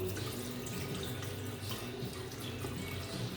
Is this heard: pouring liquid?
yes